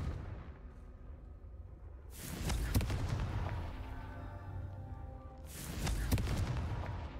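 Confringo fire spell cast in the Hogwarts Legacy game, two loud whooshing fiery bursts that swell and crackle, the first near the middle and the second toward the end, separated by a quieter low rumbling stretch.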